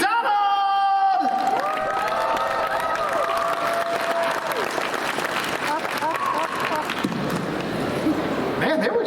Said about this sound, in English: Man, they were cheering pretty loud for you right there.